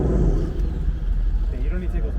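Cadillac CTS-V V8 engine and exhaust rumbling with a deep, steady low growl close by, with voices talking over it.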